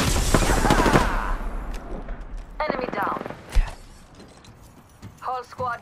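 Rapid bursts of RE-45 pistol fire in a shooter video game, loud at first and then in shorter volleys, mixed with other game effects and brief voice lines.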